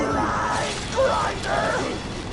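A grinder machine churns inside a video game with a continuous mechanical whirring and ratcheting that swells at about one second and again near one and a half seconds. A voice-like layer runs through it.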